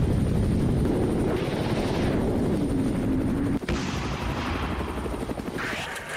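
Russian Mi-8 attack helicopters firing on Ukrainian positions: a loud, steady rotor roar broken by a sharp blast partway through, with the rotor drone continuing afterward.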